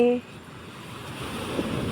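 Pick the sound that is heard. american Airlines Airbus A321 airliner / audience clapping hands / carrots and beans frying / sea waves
sea waves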